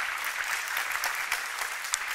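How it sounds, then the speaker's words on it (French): Steady audience applause in a hall during a talk, continuous dense clapping throughout, fairly close and even in volume. "C'est plus facile d'applaudir maintenant"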